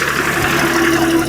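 Mahindra B275 DI tractor engine running, a brief steady low mechanical drone close by with no talk over it.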